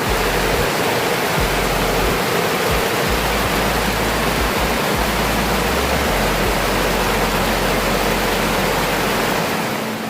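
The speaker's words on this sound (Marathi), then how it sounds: "भयानक पाऊस." Torrential rain at Annapurna base camp in Nepal makes a dense, unbroken roar, loud and close, with low wind-like buffeting underneath and no voices.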